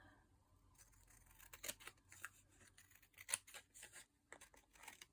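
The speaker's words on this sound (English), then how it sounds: "These scissors help me to cut straight for some reason." Scissors snip through paper for a junk journal craft project, making a series of soft, close cuts with faint crinkling in between, quiet and without talk.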